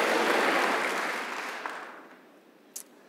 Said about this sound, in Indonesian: Berikan tepuk tangan sukacita.